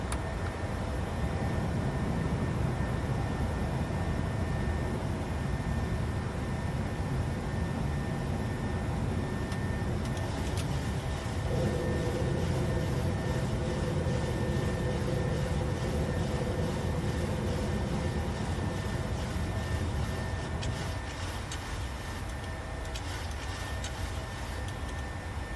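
Airliner engines in a flight simulator during takeoff and climb, a continuous broad roar with a steady whine, shifting slightly in tone partway through as power settles.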